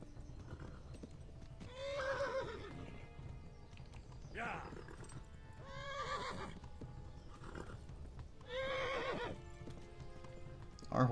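A horse in the medieval video game Kingdom Come: Deliverance clip-clops along and gives several loud whinnies at regular intervals, each neigh standing out over the steady hoof rhythm and quiet game background.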